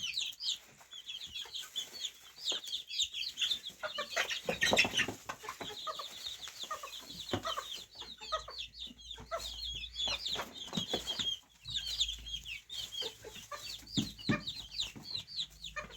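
Chicks clucking and peeping close by as they eat dried nettle, a busy run of short calls with occasional louder squawks and faint rustling.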